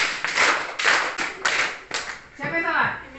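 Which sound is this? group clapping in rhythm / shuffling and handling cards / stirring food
group clapping in rhythm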